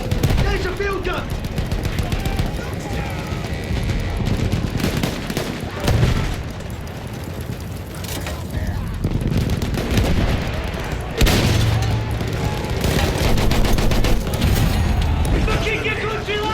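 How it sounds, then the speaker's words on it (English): Battlefield 1 combat with a field gun firing, heavy booms and bursts of rifle and machine-gun fire over a dense battle din, loud and continuous, with shouting soldiers' voices mixed in. "There's a field gun!"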